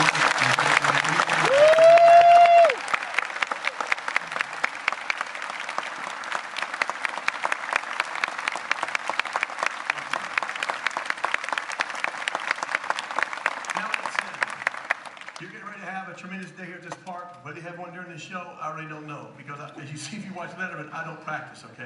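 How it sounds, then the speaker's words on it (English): A large crowd at a SeaWorld animal show breaks into sustained applause that rings on for about fifteen seconds, with a short whoop early on. Then the clapping gives way to someone speaking. "it would mean a lot to me if we'd all literally give a round of applause for that family"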